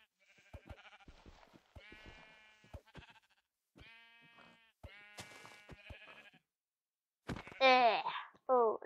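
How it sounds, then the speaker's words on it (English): Sheep in the video game Minecraft give several short bleats in sequence, with gaps between them, and a louder wavering bleat near the end. "Just saw a sheep right here."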